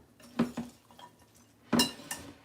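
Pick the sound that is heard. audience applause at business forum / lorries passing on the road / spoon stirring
spoon stirring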